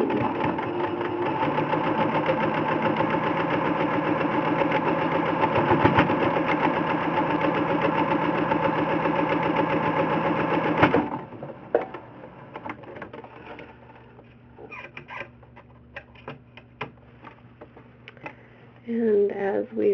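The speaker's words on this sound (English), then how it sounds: "We are going to sew all the way across that middle seam." A sewing machine runs continuously across the middle seam of a quilt for about eleven seconds, a close, steady whirring drone, then stops, leaving light handling clicks and rustles of fabric and pins.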